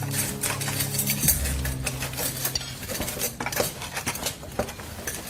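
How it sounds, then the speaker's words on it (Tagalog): Dishes of adobong kangkong and okra being set on a table: busy, continuous clattering of plates, pots and cutlery, close and fairly loud, with sharp clinks throughout and no talking. "Inilapag naman ni Aling Edna ang adobong kangkong at okra sa hapagkainan."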